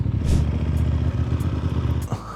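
An Aprilia Tuono motorcycle runs with a loud, close, throbbing engine rumble that stays steady before a short rising rev near the end, with no talk.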